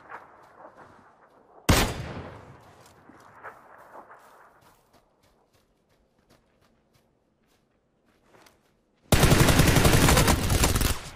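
Vector SMG fire in a video game: a sharp burst near two seconds, then a long loud rapid volley at the end, with faint footsteps and quieter shots between.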